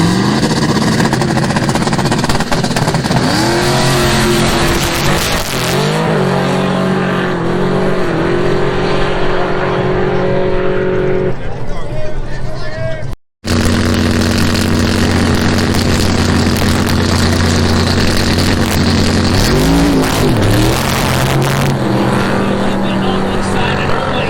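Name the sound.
race car with LS V8 engine revving at raceway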